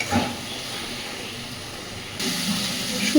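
Spice masala frying in hot oil in a pan, a steady, close sizzling hiss throughout that swells slightly partway through, with no talking.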